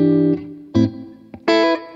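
A Strat electric guitar through an amp, close-miked with slight amp reverb, plays a few separate ringing notes and chords, each struck loudly and decaying before the next.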